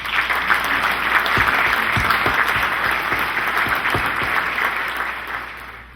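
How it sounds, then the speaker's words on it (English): A large audience claps in sustained, dense applause at an awards or recognition event, steady and loud throughout before tapering slightly at the end, with no talk over it. "Let's give her a big round of applause."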